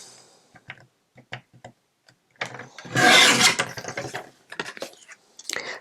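Scissors snip through a recycled Christmas card just below its Merry Christmas greeting: a few short, sparse cuts, then a louder, denser run of rasping cuts, close and alone.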